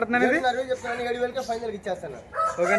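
An Aseel rooster crows loudly and close by, its long drawn-out call repeating twice, with someone talking over it.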